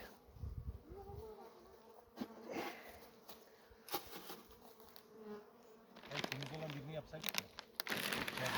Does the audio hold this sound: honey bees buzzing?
yes